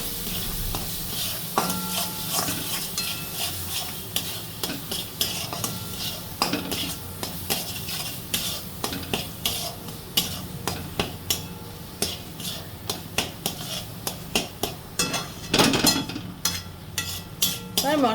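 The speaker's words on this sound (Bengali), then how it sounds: "এবার আমি এটা মশলাটাও ভালো করে মিশিয়ে নেব।" A spoon repeatedly scrapes and clinks against a pan while spice masala with Kashmiri chili powder is mixed for Bengali potol dorma with prawns, with a steady sizzle underneath and rhythmic stirring strokes throughout.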